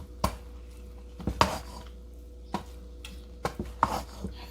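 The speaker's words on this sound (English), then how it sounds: "Now stir." Spoon or spatula scraping and clanking in a pan while stirring shrimp-pineapple fried rice with soy sauce: sparse, irregular knocks and scrapes over a quiet background hum.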